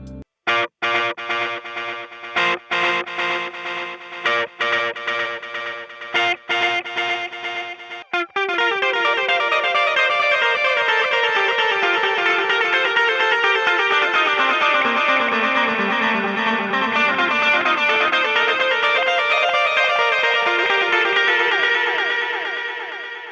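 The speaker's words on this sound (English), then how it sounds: "The next effect I love from the Boss MS-3 is being able to use dual delays." An electric guitar through a Boss MS-3 multi-effects unit plays a picked riff, then sustained chords ring out with dual delays, layered repeating echoes cascading and overlapping.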